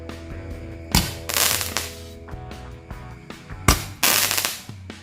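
Bald Eagles firecrackers (mercon) set off for Indonesian Independence Day explode in sharp, loud bangs: one near the start, then two more in quick succession later, each followed by crackling bursts.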